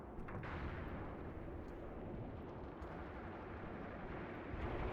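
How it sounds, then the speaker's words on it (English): A WWII anti-tank rifle fires during the Mius Front video game, its heavy reports set against a steady rumbling battlefield din with no clear separate shots standing out. "This is actually one of those little anti-tank rifles I heard. Yeah, you can hear it sounds like ka-dunk"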